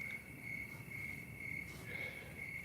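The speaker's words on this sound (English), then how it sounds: "I like when the crickets are out." Crickets chirp steadily outdoors at night, a high, continuous trilling pulse that stays fairly faint but clear against a soft background hush.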